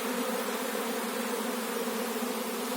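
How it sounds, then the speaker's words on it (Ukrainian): A swarm of Carpathian honeybees flying in, a dense, steady buzzing drone from many bees at once, loud and continuous throughout with no voices. "і досить нормальний рій"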